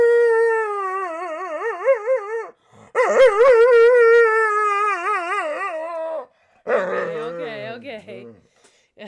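A pet dog howling in long, wavering, pitched cries, close and loud, in three drawn-out bursts separated by short pauses, with a person talking in between.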